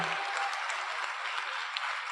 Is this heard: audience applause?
yes